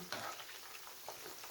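Peshawari fish fries in hot oil with a steady, crisp sizzle and faint crackle, quiet and continuous with no talking.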